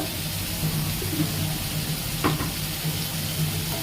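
Curry sizzles and fries steadily in a pan for several minutes' worth of cooking, a continuous close hiss with a brief stirring scrape partway through and no talking.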